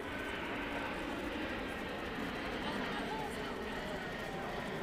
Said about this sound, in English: there's an aeroplane as well